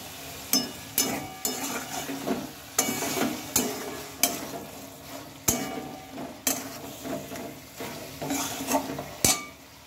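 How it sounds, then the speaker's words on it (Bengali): Rohu fish pieces with green peas frying in a pan are stirred with a utensil, giving repeated scraping knocks in an uneven rhythm over a soft, steady sizzle, close and fairly quiet. "মাছগুলো দিয়ে খুব ভালোভাবে এগুলোর সাথে মিশিয়ে নিতে হবে"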